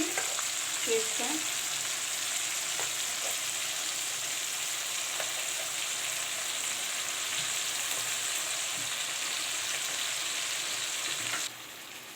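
Onion fried golden with ginger-garlic-chili paste and freshly added tomato sizzle steadily in a pan, a continuous close frying hiss with a few small clinks, dropping slightly in level near the end.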